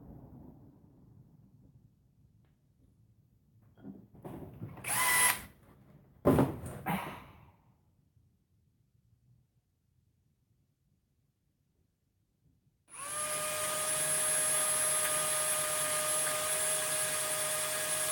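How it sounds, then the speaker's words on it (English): A drill bit bores a hole in a lapis and silver pendant: after a few handling knocks and a quiet pause, a steady, high motor whine starts abruptly and holds. "I want to open that hole up quite a bit more, so I'll put a bigger drill bit"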